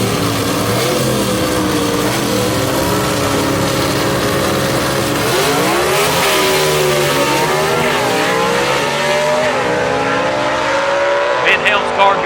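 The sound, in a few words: gasser drag race cars launching off the starting line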